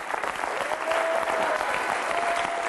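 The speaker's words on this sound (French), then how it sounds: "merci de les applaudir" A studio audience applauds steadily at a French television show's final episode, a dense, sustained clapping wash that stays fairly loud throughout, with no talk over it.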